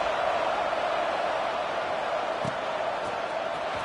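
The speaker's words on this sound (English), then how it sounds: "this crowd is buzzing after that last score" A stadium crowd in the College Football 26 video game murmurs as a steady, dense wash of distant cheering and chatter, constant in level with no distinct peaks.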